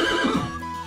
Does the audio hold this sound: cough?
no